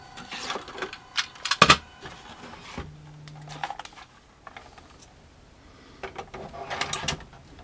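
A Nikon Coolscan V ED film scanner takes in a film strip with scattered mechanical clicks, a short motor whir and light handling noises, close and fairly quiet with gaps between sounds.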